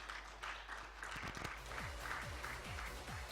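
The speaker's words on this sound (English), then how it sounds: "Can we have a round of applause" Audience applause at a panel discussion on digital adoption and transformation: a steady, fairly faint wash of clapping from a crowd that holds for the whole few seconds.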